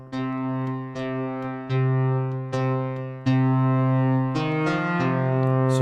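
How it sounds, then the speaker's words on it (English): A DSI Poly Evolver keyboard playing a sustained, buzzy synth tone with digital distortion, notes changing in steady steps and growing louder and richer toward the end, with no voices. "So this is a digitally created distortion, but it sounds very nice."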